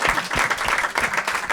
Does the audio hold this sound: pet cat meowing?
no